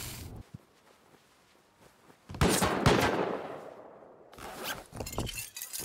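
Automated turrets firing in the survival game Rust: sharp bursts of gunfire erupt after a quiet stretch, a loud sustained volley rolls for about two seconds, then fades, followed by more rapid shots and clatter.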